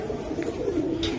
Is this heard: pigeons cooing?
yes